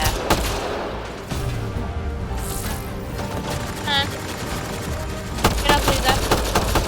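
Rapid gunfire from the shooter game Mass Effect: Andromeda rattles in dense bursts, loud and close, with battle noise and occasional voices mixed in.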